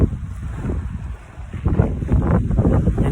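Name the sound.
wind blowing by the sea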